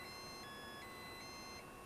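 A CG022 drone's handheld transmitter powers on with a string of thin, high electronic beep tones, stepping between pitches in short held notes against quiet room hiss.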